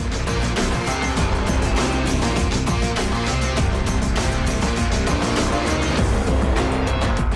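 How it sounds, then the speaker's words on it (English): A NASCAR stock race car drives on a super speedway, its engine a loud, continuous roar with rapid revving pulses throughout. "drive a real NASCAR race car on a super speedway"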